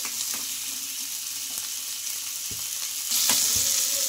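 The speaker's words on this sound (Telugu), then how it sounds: "ఇవన్నీ వేసేసుకొని బాగా ఆనియన్స్ కొంచెం కలర్ చేంజ్ అయ్యే వరకు అయితే ఫ్రై చేసుకోవాలి" Onions and tomato with chilli fry in a pan for a curd ponganalu batter base, a steady close sizzle with occasional spatula scrapes and clicks, no voices.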